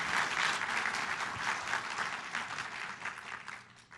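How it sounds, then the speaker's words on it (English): Sustained audience applause greets the introduction of a guest speaker at a health technology anniversary event, dense and steady clapping that gradually thins toward the end with no talking over it. "please join me in a round of applause"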